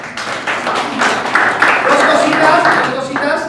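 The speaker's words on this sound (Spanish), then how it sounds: "Muy bien, un aplauso para ellos." A seminar audience applauds a presentation, a steady wash of clapping that holds for several seconds at close to moderate distance, with no clear speech over it.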